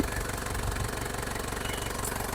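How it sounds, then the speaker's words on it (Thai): A used 4x4 pickup truck engine idles quietly and steadily, a low, even mechanical rumble with a faint regular knock, close by and alone with no talk. "เครื่องเนี่ยเงียบๆนิ่งๆนะเครื่องแห้งๆเลยนะไม่มีหยดเลยนะ"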